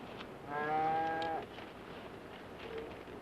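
Cattle moo several times in a drawn-out, harmonic low call, then a fainter second moo follows, heard from a herd held overnight near a river crossing while thirsty.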